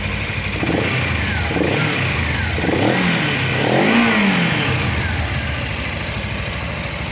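An RKS R250 motorcycle engine running close by, idling and then revved in several rising and falling sweeps before settling back to a steady idle.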